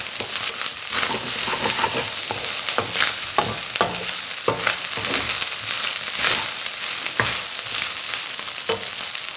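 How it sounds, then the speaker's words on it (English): Fried rice seasoned with salt is stirred in a hot pan, a steady close sizzle broken by repeated scraping strokes of the utensil across the metal, with no voices. "let's stir it"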